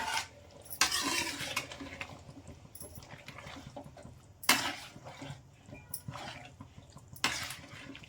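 Egg boti curry masala being stirred in a pan with a utensil, giving a steady soft scraping and sizzle with louder clattering scrapes at irregular moments, close by and with no talking.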